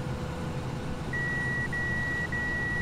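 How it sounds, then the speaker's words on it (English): Combine harvester alarm in Farming Simulator 17, a steady electronic tone sounding in three short back-to-back pulses over a low, constant engine hum. "there's my combine signal"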